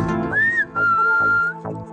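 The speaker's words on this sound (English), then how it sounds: "What if it was your job to whistle this song?" A person whistles a short melodic tune, clear and close, with sustained notes and small pitch slides alone without talk.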